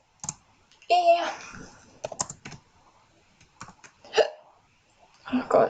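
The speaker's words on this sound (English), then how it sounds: "Oh god, now I have to have hiccups." Sharp, repeated hiccups from a person at a computer, scattered among bursts of keyboard typing and brief muttered speech, each hiccup a short close spasm between clicks.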